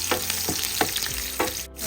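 Green chillies dropped into hot oil with cumin and garlic for eggplant thokku, giving a steady close frying sizzle broken by several sharp bursts of crackle and a few stirring scrapes, no voices.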